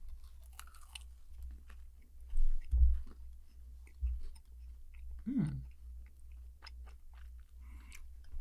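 Crunchy puffed rice coated in chocolate is chewed close to the mic, with a few crisp bites and soft munching, while a brief, faint voice comes through.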